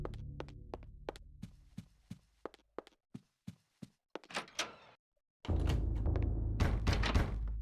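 Knocking on a door in the video game Eternal Darkness comes as a steady series of sharp, hollow raps, about a dozen evenly spaced blows. A brief pause follows, then a loud, dense wash of noise takes over.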